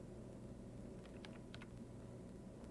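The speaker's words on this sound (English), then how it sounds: "we may type in the dir command" Faint, scattered keystrokes on a computer keyboard as a DOS command is typed, a few quick clicks over a steady low hum.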